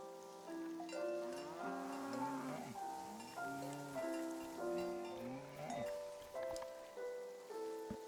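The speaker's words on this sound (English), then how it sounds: "The cow is called Frenzy." A cow named Frenzy, left behind on flooding land, moos repeatedly in long, drawn-out calls that keep coming one after another, fairly clear over a soft patter that sounds like rain.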